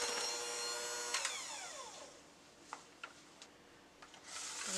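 An electric mixer creams orange sponge cake batter, whirring loudly at first, then dropping to a softer hum with a few bumps and scrapes before speeding up again at the close.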